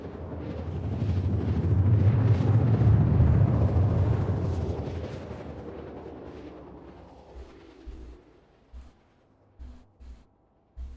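Missile explosions in an online video game: one long rumbling blast swells to a loud peak and then fades, followed by a few short thumps near the end, with no talk over it.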